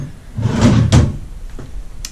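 Drawers in a built-in closet unit sliding open and shut, two loud close-up wooden rumbles and thuds followed by a few fainter knocks.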